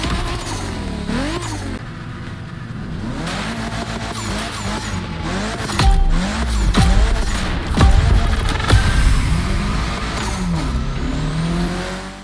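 Car engine and tires in the racing video game The Crew Motorfest: an engine revs up and down through gear shifts while tires squeal and skid, loud and continuous with no voices.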